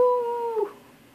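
A dog gives a single short whimpering whine in the video game Five Nights at Candy's, a clear tonal cry that drops away into quiet.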